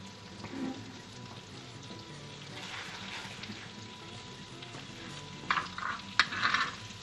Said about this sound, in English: Got the garlic and butter all melted.